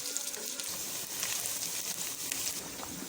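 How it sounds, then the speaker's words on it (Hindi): Onions fry in hot oil in a pan, browning for Sindhi biryani, with a soft, steady sizzle and crackle that stays fairly quiet and even throughout, and no voices. "अब इसमें हम प्याज डालते हैं। अच्छा, अब हमें ना प्याज को ब्राउन कर लेना है"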